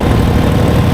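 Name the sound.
1946 Harley Davidson FL Knucklehead motorcycle engine idling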